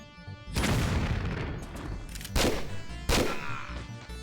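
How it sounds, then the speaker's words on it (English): Gunfire in the Tomb Raider 4 video game: a loud booming shot followed by two more sharp blasts, each trailing off in a rumbling echo, with no talk. "Two shots."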